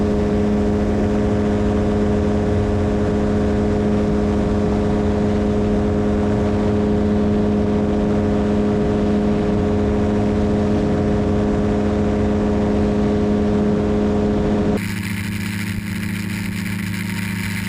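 A loud, steady engine drone with constant tonal hum runs throughout, shifting pitch slightly near the end, from a Quicksilver GT400 ultralight aircraft cruising on a circuit.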